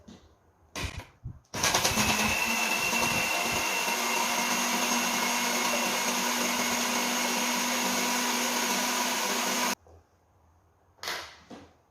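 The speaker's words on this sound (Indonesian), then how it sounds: "Lalu kita blender." A blender whirs loudly and steadily for about eight seconds as it purees fruit with water and salt, starting and stopping abruptly amid brief handling knocks.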